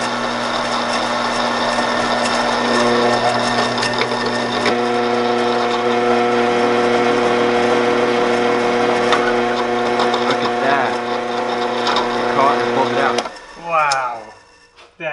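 A power drill grinds steadily into an old steel steering linkage rod stuck in its sleeve on a 1992 Subaru WRX, a close, continuous whining bite that stutters and stops near the end.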